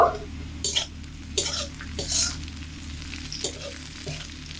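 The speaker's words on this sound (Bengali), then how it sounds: "রসুন আর পেঁয়াজ কিন্তু লাল লাল করে ভেজে নিয়েছি এবার এর মধ্যে চিড়ে রাখা কাঁচা লঙ্কাগুলো দিয়ে দেব" Green chillies frying in a pan with garlic and onion, a strong continuous sizzle with a spatula stirring and scraping at irregular intervals, close and loud, no voices.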